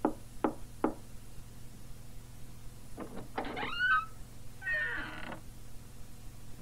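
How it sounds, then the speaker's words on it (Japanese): Three sharp knocks on a door in a radio drama sound effect, evenly spaced and close, followed by a cat meowing a few times after a short pause. "それから戸口に歩み寄ってドアをノックした。"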